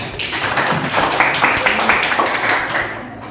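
Classmates clapping in a classroom, a steady burst of many hands at close range that fades out toward the end.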